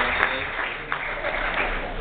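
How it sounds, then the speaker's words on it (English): An audience claps together in a large hall for a track meet result, a steady, even wash of applause at moderate volume with no gaps. "so you guys can clap up for the track meet"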